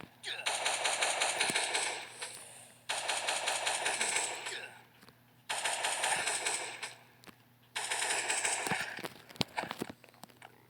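AK-47 gunfire in a video game rattles in four long automatic bursts separated by brief pauses, with sharp clicks and small impacts toward the end.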